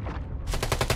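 Rapid automatic gunfire from a first-person shooter video game, a burst of sharp, evenly spaced close shots in the last half second following a brief lower rumble.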